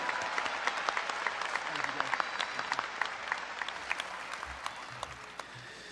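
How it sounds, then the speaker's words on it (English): A graduation audience applauds the middle school staff, a broad wash of clapping from a large crowd, steady and moderately distant, with some isolated sharper claps. "Please join me in giving them a warm round of applause for all the help they've given us along the way."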